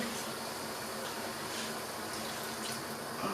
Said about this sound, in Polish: więc dodam troszkę wody